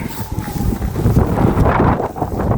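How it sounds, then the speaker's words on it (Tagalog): Strong wind during snowfall buffets and rumbles continuously across the microphone, loud and gusty, with no voices. "Naglakas ang hangin."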